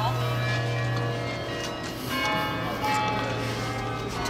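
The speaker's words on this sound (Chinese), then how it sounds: "它敲钟了。" Church bells ring in Ghent, Belgium, a steady tonal peal carried over outdoor street ambience, with people talking nearby throughout.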